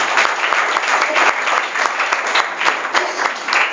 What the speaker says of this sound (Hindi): इसके लिए एक बार जोरदार ताली होनी चाहिए